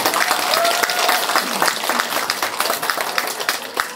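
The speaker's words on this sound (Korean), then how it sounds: "큰 박수 부탁드립니다." A crowd at an election campaign office opening ceremony in Korea gives sustained, even applause, many hands clapping together at close range.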